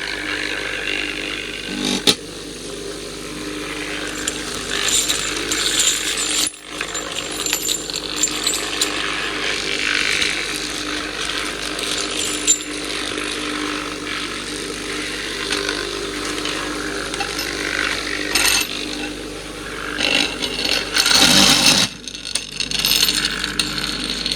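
A Frankford Arsenal EZ Case Clean rotary tumbler runs with brass rifle cases inside, giving a steady, loud, rattling mechanical churn for the whole stretch with no talking.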